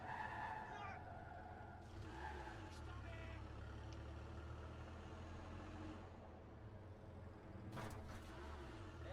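Car skidding in the video game Watch Dogs 2, a sustained low engine drone with tire squeals sliding up and down, plus a few sharp bursts near the end.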